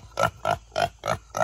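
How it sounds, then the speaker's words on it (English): A pig in a farmyard grunts and oinks five times in quick, even succession, loud and close, with no talk over it. "Get away, pig."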